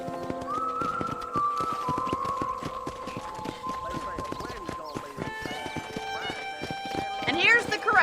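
Rhythmic clip-clop of horse hooves plodding along at a ranch corral in a video game under steady game music, with a brief whinny near the end.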